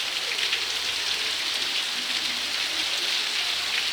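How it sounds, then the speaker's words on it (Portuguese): Heavy rain pours down steadily in Matinhos, a dense, even hiss of drops striking surfaces close by, loud and unbroken with no voices. "Muita chuva."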